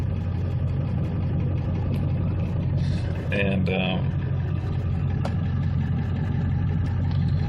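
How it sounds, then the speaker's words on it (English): A 2000 Ford F-450 truck with about 196,000 miles idles with a steady low rumble throughout, while someone briefly speaks over it and faint clicks sound nearby. "I'm sure you can hear the engine running."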